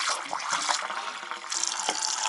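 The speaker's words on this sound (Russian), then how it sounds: "А это журчит вода." Water gurgling aboard a sailing yacht, near and continuous, a splashing, bubbling flow like a tap filling a tank, with a brighter surge partway through.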